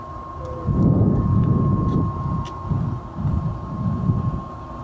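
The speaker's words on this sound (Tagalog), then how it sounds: "Ayan, ang jet ski pala eh." A jet ski on the sea passes with a low, rumbling engine drone that swells and fades over a few seconds, heard from a seafront with steady background noise and no talk.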